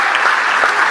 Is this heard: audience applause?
yes